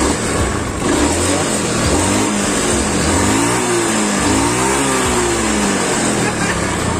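A Honda Beat FI scooter with a faulty idle revs up close by. The engine note rises and falls in repeated loud throttle blips over a steady rumble, with no break.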